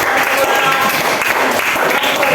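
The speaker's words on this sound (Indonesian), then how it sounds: "Kita tepuk tangan untuk kelompok Yohanes" A classroom group claps for a discussion group that has just presented, a short burst of steady applause filling the room.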